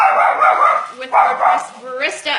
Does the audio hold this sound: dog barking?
yes